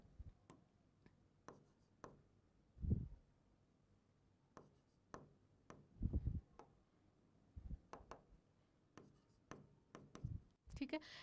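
Writing on a board during a physics lesson, with scattered taps and scratchy strokes of the pen or chalk, close and fairly quiet, some heavier low thumps, and a voice speaking at times.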